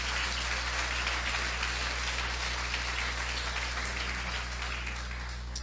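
Church congregation applauding in worship, a continuous roar of clapping that holds steady from start to finish at moderate distance, with no talk over it.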